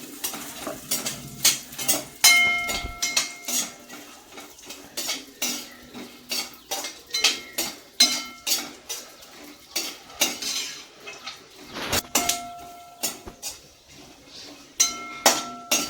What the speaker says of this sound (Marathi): पिस्ता आणि हे बी भाजून घेऊ आपण चांगले।